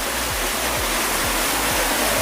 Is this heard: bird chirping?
no